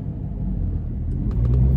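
A manual-transmission car's engine hums with a low, steady rumble while driving, swelling slightly louder toward the end, with no voices.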